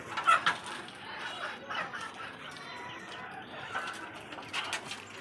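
Chickens clucking as they squabble over a cabbage, several short clucks and squawks at moderate distance, bursts at the start and near the end with quieter stretches between.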